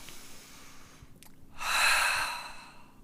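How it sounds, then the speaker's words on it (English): A single forceful, noisy inhale taken during a qi gong breathing exercise, swelling over about a second and then fading, close and clear with no talking. "Make a fist, inhale."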